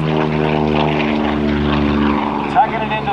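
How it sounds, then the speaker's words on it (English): A Curtiss P-40 Tomahawk fighter with an Allison V12 engine roars loudly and steadily as it lifts off at an open house air show, a deep continuous propeller drone with a voice announcing over it. "P-40 Tomahawk, built by Curtiss Aircraft, with the Allison V12 engine in it."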